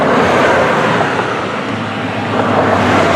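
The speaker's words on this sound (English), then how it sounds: "let the car go by so you can hear me" A car passes close by, its steady road and engine noise swelling and easing slightly over a few seconds, with no voices.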